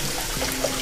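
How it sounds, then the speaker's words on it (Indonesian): Cold water poured over freshly cooked kenikir greens in a home kitchen, a brief, loud, steady splashing wash lasting under a second with no talk. "Terus langsung tak siram air dingin aja"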